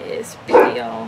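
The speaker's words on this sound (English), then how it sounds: "Sorry about the dog." A dog gives a single short bark at close range, mixed in with a person talking.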